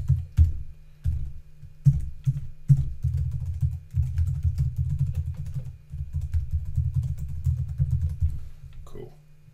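Computer keyboard typing a username into a login page, with bursts of close, crisp key clicks in quick irregular runs over a low steady hum, and no talk during the typing.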